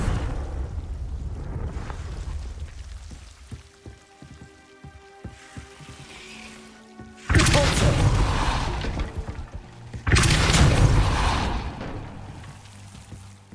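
The Confringo explosive spell from Hogwarts Legacy goes off twice as heavy, roaring blasts that each last a few seconds. A quieter magical hum and chiming tones come before them, and there is no speech over the bursts.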